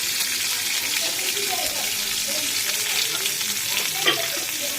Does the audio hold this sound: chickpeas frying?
yes